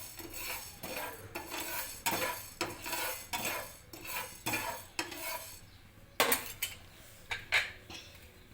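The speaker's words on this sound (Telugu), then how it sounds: "ఫస్ట్ టమాటా చట్నీలో ఈ జీలకర్ర, మెంతులు, ఆవాలు ముందు వేయించుకోవాలి, దోరగా వేయించుకోవాలి" Cumin, fenugreek and mustard seeds dry-roast in a pan on the stove while a spoon stirs and scrapes against the metal in quick, rhythmic strokes, with a light rattle of seeds, close by and without talk.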